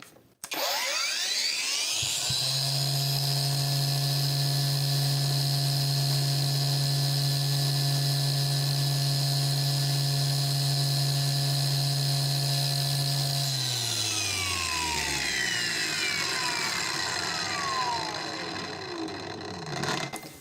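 A PATUOPRO PTA001601 angle grinder spins up to maximum speed, holds a loud, steady high-pitched whine for about eleven seconds, then winds down in a long falling drone, heard alone and close.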